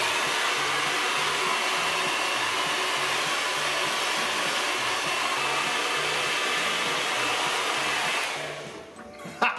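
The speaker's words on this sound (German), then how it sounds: "Föhnen." A hair dryer blows on a beard with a steady, loud whirring roar that holds constant before tapering and cutting off near the end.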